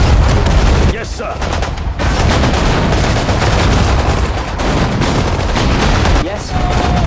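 Battle gunfire from the Sudden Strike 4 video game at El Alamein in the desert: dense, steady volleys and bursts that continue almost without pause, with a few brief dips, alongside game unit voice responses.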